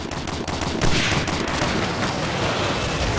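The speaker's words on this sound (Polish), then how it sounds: "Lecą tu strzały i teraz biegnę." Dense gunfire rattles continuously in the World War II shooter Medal of Honor Allied Assault, bursts of rifle and machine-gun shots overlapping with heavy booms, loud and unbroken throughout with no talking.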